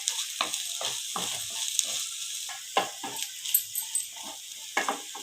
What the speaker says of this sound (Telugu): అల్లం వెల్లుల్లి పేస్ట్ కూడా వేగింది.